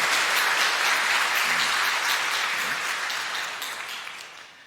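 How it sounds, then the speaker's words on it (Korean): A church congregation applauds in welcome during a Sunday morning worship service, a broad, even patter of many hands that holds steady and then gradually fades away toward the end. "여러분들 환영의 박수 부탁드리겠습니다."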